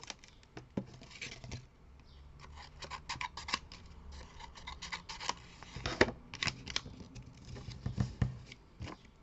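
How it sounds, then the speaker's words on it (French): Scissors snip through cardboard corners, a close run of sharp, irregular cuts and crisp clicks with light rustling between them. "On coupe des côtés pour avoir des beaux angles."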